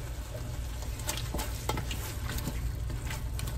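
Dark brown sugar is stirred into a pot of Hungarian goulash, a continuous low bubbling simmer with soft scraping strokes from the spoon, close and steady with no voices.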